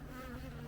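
Bees buzzing around a beehive: a short, faint, steady insect drone with no voices.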